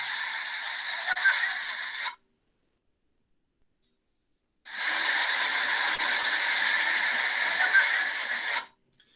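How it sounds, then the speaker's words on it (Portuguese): A waterfall in Jalapão with clear water, its steady broadband rush filling two stretches separated by a few seconds of near silence, no voices over it. "aqui tem um videozinho para vocês sentirem aí a sensação da queda dessa cachoeira"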